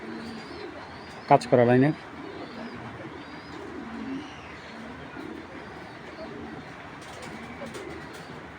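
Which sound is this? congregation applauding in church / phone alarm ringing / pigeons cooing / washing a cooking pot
pigeons cooing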